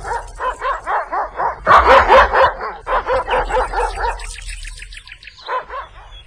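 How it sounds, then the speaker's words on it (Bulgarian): Dog barking angrily in rapid repeated bursts, loud and close, with a frantic cluster of overlapping barks and yelps, then a few higher whining yips and a final short round of barks. "Злобно лае. Изглежда, че усети нещо нередно песът му с пес."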